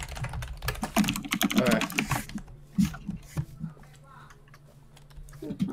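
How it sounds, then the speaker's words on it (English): Quick bursts of typing clatter on a computer keyboard, fast and close at first, then sparser taps, while a person speaks briefly in the room. "What are you typing?"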